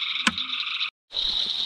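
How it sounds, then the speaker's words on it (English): A green frog croaks at night during frog gigging, a close, loud, buzzing call with a sharp click, a brief pause, then another sustained croak, with no talk. "It's just a green frog."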